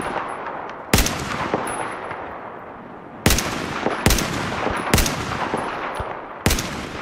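Gunfire in Battlefield 4 on a Shanghai map: five loud, sharp shots fired at irregular intervals, each cracking out over a dense rumbling battle backdrop of distant explosions and ambient combat noise.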